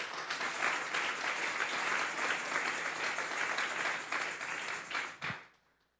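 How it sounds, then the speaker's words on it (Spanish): Church congregation bursting into loud, sustained applause that fills the room evenly for about five seconds, then quickly tapering off to near silence. "Vamos a darle un fuerte aplauso pues al Señor."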